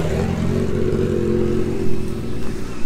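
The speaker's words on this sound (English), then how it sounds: "Sports bike riders riding by revving their engines." Sports bikes ride past with engines revving, a loud, rumbling low engine drone that swells slightly as they pass nearby.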